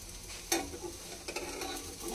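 Pitha rice cakes fry in oil with a soft, low sizzle, broken by a few sharp stirring scrapes and clicks from a utensil in the pan.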